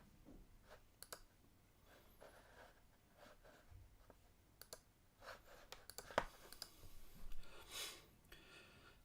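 Computer mouse clicking while browsing, with a scattering of quiet, sharp clicks at an irregular pace, fairly close but faint, with no talk over them.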